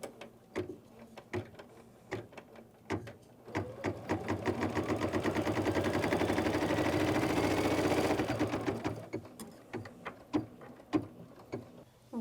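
An embroidery machine stitches a triangle piece of a snowflake quilt block in the hoop, a close steady whirring run of stitches between clusters of sharp mechanical clicks, with no voices.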